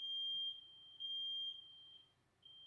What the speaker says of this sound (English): Sounds like my family just set off the smoke detector.